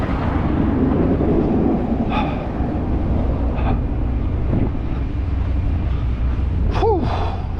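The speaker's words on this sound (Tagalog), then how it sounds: "Mayroon palang hangin na malakas oh." Strong cold wind buffets the microphone outdoors on a snowy morning beside a Volvo truck, a constant loud roaring rumble with a few brief higher squeaks and tones cutting through near the end.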